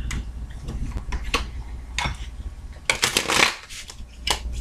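Tarot cards are riffled and shuffled repeatedly, crisp fluttering bursts close by, with short pauses between each shuffle.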